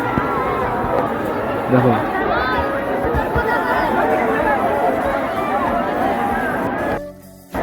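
A dense crowd chattering at the Kaldighi park gate on Eid, a steady near babble of many voices with scattered shouts, running until it drops away near the end, while a person speaks over it.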